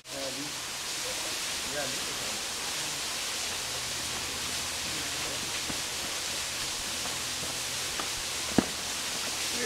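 Steady, broadband rushing of a waterfall at Ringing Rocks fills the whole stretch, with faint voices and a sharp knock near the end.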